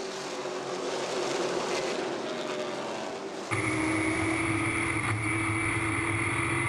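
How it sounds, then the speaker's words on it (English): Stock race cars at Salem Speedway roar off the green flag at the start of a CRA All Stars Tour race, a loud continuous engine drone that jumps sharply in volume partway through as the pack accelerates past. "Elaine Miller with the green flag in hand, and we are racing"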